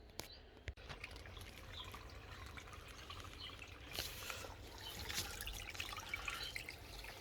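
Water running through a freshly cleared drainage channel in ground with a groundwater problem: a low, continuous trickle and flow, fairly faint, with a few sharp knocks near the start.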